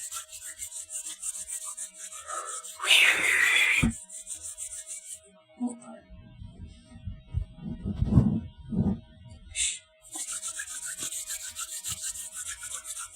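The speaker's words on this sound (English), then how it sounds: "I'm warming my hands." Dry, brushing friction of hands rubbed together in several short bursts, close by, with quiet pauses and faint room noise between.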